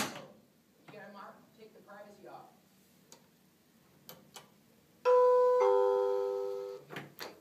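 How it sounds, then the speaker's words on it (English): A two-tone electronic hotel room doorbell chime rings out loud and clear, sustaining and fading, after some quiet room noises and soft movement. "on the outside, the doorbell, yes, we have a doorbell"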